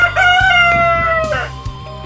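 A rooster crows loudly and close by at a rural homestead, one long drawn-out call with a strained, wavering tone over a steady low background hum.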